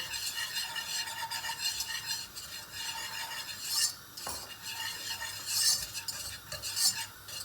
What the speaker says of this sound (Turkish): Unumuzu şöyle bir e, kavuracağız.